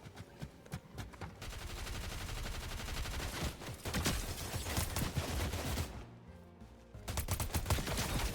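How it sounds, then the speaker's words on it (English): Rapid, continuous gunfire in the Fortnite video game, with dense bursts of automatic shots that briefly drop out before resuming. It is fairly quiet overall, heard without talking. "someone's already shooting at me"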